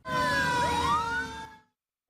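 A loud emergency siren wails with rising and falling tones for about a second and a half, then cuts off into silence.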